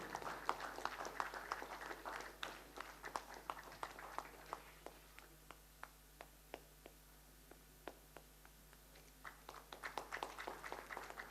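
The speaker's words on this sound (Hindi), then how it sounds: "एक बार जोरदार तालियों से इनका स्वागत और सम्मान करें।" An audience at a school event claps, loud at first, then thinning to scattered sharp claps before swelling again toward the end.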